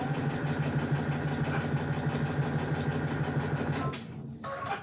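A sewing machine stitches a quilt block in a fast, even mechanical rhythm, close and steady. It slows and stops near the end, followed by a short softer whir.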